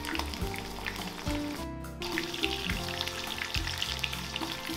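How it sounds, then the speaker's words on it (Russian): Padron peppers frying in hot flavored olive oil, a steady close sizzle with crackling and soft stirring clatter throughout, no talk. "Разогреваем ароматизированное оливковое масло и обжариваем их всего за пару минут со всех сторон."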